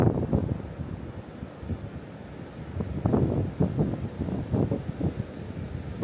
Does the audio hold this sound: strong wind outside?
yes